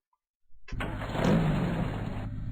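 After a brief silence a car engine in a driving video game starts up and keeps running steadily, with a loud, slightly rising hum that continues to the end; game volume turned down.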